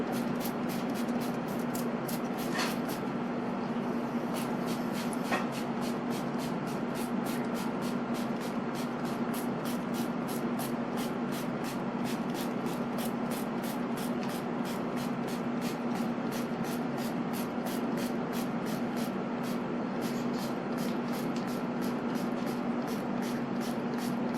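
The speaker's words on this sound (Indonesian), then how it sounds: "Oke, sudah saya semprot pakai botol hairspray." A hairspray bottle misting bread dough before baking, a steady continuous hiss of fine spray lasting throughout with a faint underlying hum.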